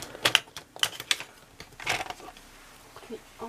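Paper is cut by hand in a series of sharp, crisp snips and rustles. The irregular clicks come close to the microphone and then trail off into quieter handling sounds.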